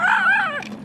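A puppy lets out one close, high whine that wavers upward and then trails off into a short, softer whimper.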